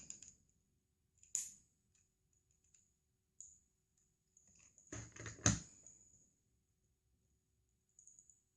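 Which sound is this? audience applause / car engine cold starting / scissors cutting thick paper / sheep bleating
scissors cutting thick paper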